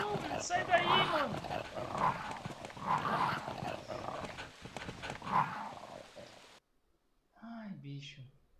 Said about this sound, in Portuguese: Esses cachorros são filha da mãe mesmo.